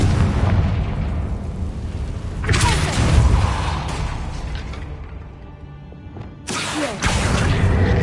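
Confringo blasting spell explosions in Hogwarts Legacy, loud booming bursts that rise and fade, with a sharp new blast near the end.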